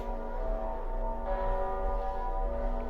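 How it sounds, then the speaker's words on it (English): Sustained, bell-like tones ring out in a Geometry Dash track, with the drums and bass stripped away, leaving steady layered chimes and a low hum, loud and continuous. "We removed the drums as well as the bass, and now we have bells."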